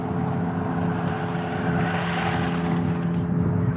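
The JJRC C8803 Pro RC rally truck's electric motor held at full throttle gives a steady, loud, continuous whine and drone with no letup.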